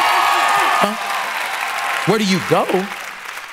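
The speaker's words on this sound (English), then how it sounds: "Will y'all give this sister an amazing hand clap?" Applause breaks out for a sister in a congregation, a broad wash of hand clapping sustained under a voice as he keeps talking over it.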